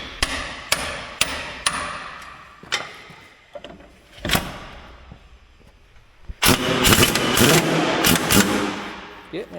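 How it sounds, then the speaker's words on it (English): Sharp metallic hammer blows strike the track parts of a Northwest 41 dragline undercarriage, several spaced single hits ringing out nearby, followed by a steady engine-like roar toward the end. "We're gonna have to get a hammer out."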